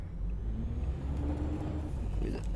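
A MAN TGX Euro 6 540 truck engine in Euro Truck Simulator 2 accelerating, a steady deep rumble with a rising whir, continuous and fairly close.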